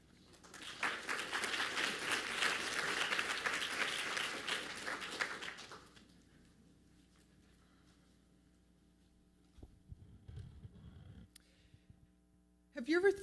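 An auditorium audience applauds a speaker named Laurie Frick, a dense wash of many hands clapping for about five seconds, then fading into quiet room noise with faint shuffling and a brief voice at the end.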